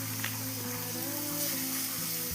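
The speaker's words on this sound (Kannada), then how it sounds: "ಇದಿಷ್ಟನ್ನು ಮೊದಲು ನೀರುಳ್ಳಿ ಕೆಂಪಾಗೋವರೆಗೆ ಚೆನ್ನಾಗಿ ಹುರ್ಕೊಳ್ಬೇಕು" Ginger, garlic and onion sizzle and fry in a pan for a mushroom curry, a continuous loud crackling hiss with a steady low hum underneath, no voices.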